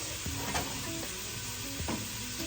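Zuppa Toscana ingredients with red pepper flakes and onions brown in a pot, giving a steady close sizzle with occasional scrapes and stirs of a utensil.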